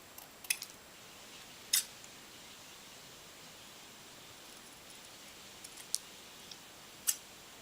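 Scissors snip cardstock in a few quiet, separate cuts spread across a near-silent stretch, each a brief crisp crunch close by.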